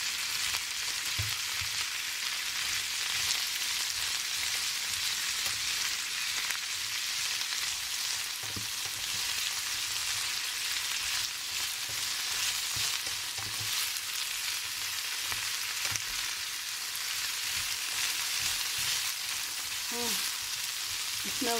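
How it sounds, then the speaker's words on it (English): Chili and garlic are stir-fried with chicken in a hot pan, giving a continuous bright sizzle with repeated stirring and tossing clatters, plus a few utensil knocks near the end. "Just going to add a little bit of chili and garlic. Just need to stir fry."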